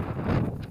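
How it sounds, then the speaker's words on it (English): Wind gusts across a snowy hillside on Brock Crags in the Lake District, a steady rushing roar buffeting the microphone close up throughout. "It's getting a bit too windy going up Brock Crags."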